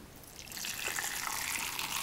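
Boiling hot water pours from a kettle into a jug of walnuts, a soft trickle swelling into a steady gushing splash that fills the jug, close and fairly quiet.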